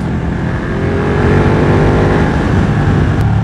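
A loud Ducati 1199 Panigale twin-cylinder sport motorcycle engine drones steadily and close, its pitch rising slightly as it revs under load, with no voices.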